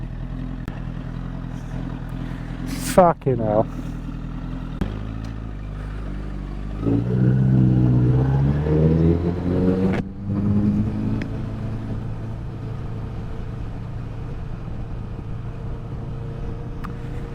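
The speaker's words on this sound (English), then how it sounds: "Now I've got to navigate all this fucking traffic." Road traffic passes around a rider on a motorcycle near Abingdon: a low engine rumble, vehicles revving and a sharp passing sweep, with a man briefly cursing over it.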